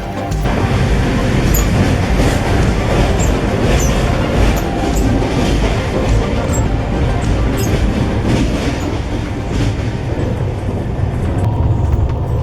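Howrah Rajdhani express train running, heard from inside an AC first-class coach: a loud, steady rumble of wheels on track with continuous rattling and faint higher clicks and squeals throughout.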